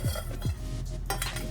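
Spices are tempered in a pan for a vegetable curry pukkai, with quick metal spoon scrapes and clinks against the pan over a faint sizzle, close up and with no voices.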